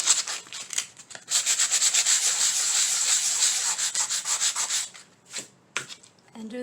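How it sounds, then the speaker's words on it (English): Sandpaper rubs back and forth over a small stake in quick, even strokes, close and continuous, then slows into a few separate scrapes before stopping. "So get you some sandpaper, sand this down,"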